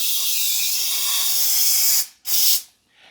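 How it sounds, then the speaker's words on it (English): An aerosol can of baking spray hisses onto a pan in a long continuous spray, followed by two shorter bursts, close and loud. "I am going to spray my pan"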